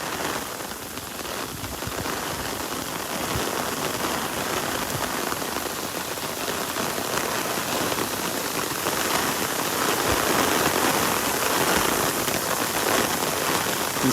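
Heavy tropical-storm rain pours steadily onto an umbrella and drips off its edge at a Naples, Florida beach, a dense continuous hiss with scattered drops, close and loud throughout with no pauses.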